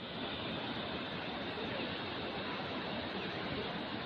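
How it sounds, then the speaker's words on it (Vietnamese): A large forest stream swollen by the rainy season, its broad steady rushing roar filling the air continuously and loudly with no breaks. "Suối nước to lắm."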